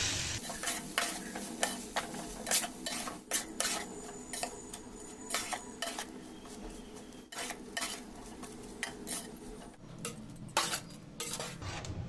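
A spoon or spatula stirs poha with turmeric and salt in a pan for Maharashtra-style poha upma, giving a steady run of close scraping clinks and rubbing over a faint sizzle, with no talk.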